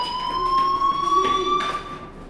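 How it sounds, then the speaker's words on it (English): A fire alarm rings in the video game Life Is Strange, a loud, steady electronic tone with layered pitches that sounds continuously and then cuts off near the end. "do you hear that fire alarm?"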